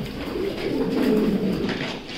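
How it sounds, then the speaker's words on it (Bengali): A pair of Mundian fancy pigeons, a male and a female, coo close by in a soft, low, throaty rolling sound that swells and fades over a couple of seconds, with no other sound present. "এই রকমের টপ কোয়ালিটির কবুতর খুব কম পাওয়া যায়"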